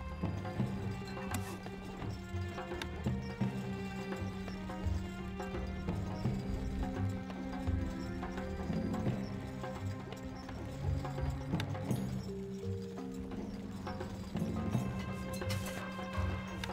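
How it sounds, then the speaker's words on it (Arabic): Horse hooves clip-clop at a gallop in the medieval strategy game Stronghold Crusader, a quick steady rhythm over busy game ambience, with an occasional whinny and some background clatter throughout. "الحصان سريع."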